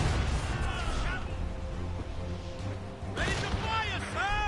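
Ship cannon fire during a naval battle in Assassin's Creed Rogue, heavy booming blasts rolling over a continuous battle din, with shouting voices and chaotic crashes layered throughout.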